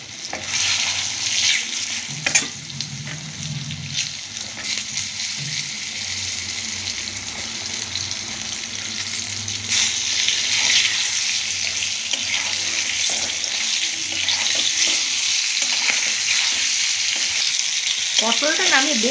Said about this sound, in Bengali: এবার আমি পটল দিয়ে দেবো।